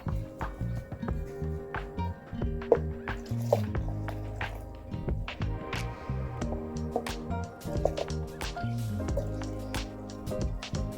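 Brine from fermented chilies is poured off, giving soft wet dripping and trickling with small squishy splashes close by, irregular and fairly quiet throughout.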